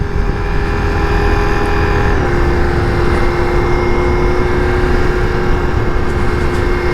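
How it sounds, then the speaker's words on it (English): A fellow biker's motorcycle passes on the road, its engine drone steady and loud and its pitch dropping slightly as it goes by, heard over constant wind and engine noise from the rider's own bike. "The fellow biker passing me"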